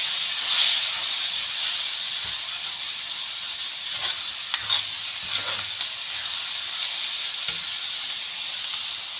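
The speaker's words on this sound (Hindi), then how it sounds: "अब मैं इसमें डालती हूँ लहसुन अदरक" Minced meat frying in a pan with garlic ginger paste gives off a soft, steady sizzle and hiss, quiet and constant, with a few light clinks of stirring.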